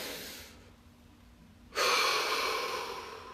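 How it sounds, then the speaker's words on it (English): A deep breath during a guided relaxation session: a soft inhalation, a pause of near silence, then a longer, louder exhale that slowly fades. "And take a deep breath."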